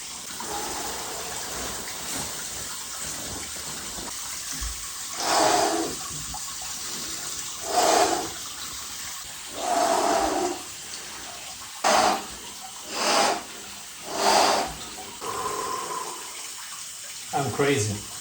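Water sloshes and splashes in a series of short bursts as a person lowers into an outdoor cold plunge of +4 degree water, with quiet stretches between movements.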